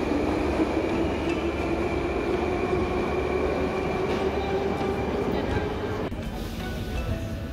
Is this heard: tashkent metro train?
yes